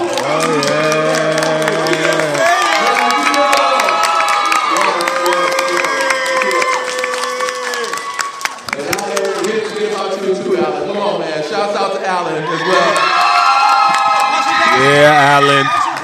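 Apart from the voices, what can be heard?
audience applause and cheering for the show director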